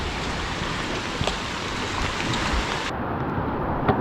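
Steady rain falls over a sleeping Amazon village, a soft, even hiss with occasional distinct drips, fairly faint and with nobody speaking.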